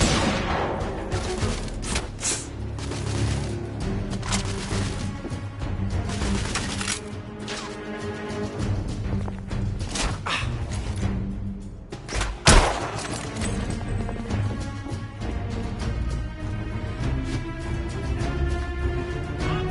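A grenade explosion in a PS4 video game: one sharp, heavy blast partway through, set against continuous music and thudding game noise.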